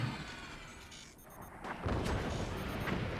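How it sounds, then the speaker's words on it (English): Mortar fire booms out in the physics strategy game Forts, a dense wash of blasts and bursts that swells loud and stays heavy to the end of the moment. "And the mortar fire for suppression."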